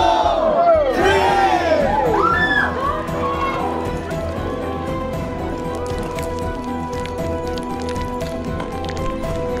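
A crowd at a Naga pork fat eating festival in Melbourne erupts in loud whoops, yells and cheers, peaking early and then settling into a sustained, fainter crowd murmur with scattered claps.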